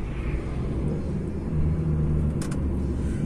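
A new DAF XF 480 truck cruises through the city of Erechim in manual mode, its diesel engine a steady low rumble heard from the cab. The drone shifts and swells partway through as a gear is held.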